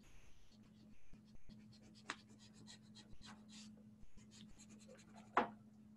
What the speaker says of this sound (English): I'm gonna go back in and erase my pencil marks.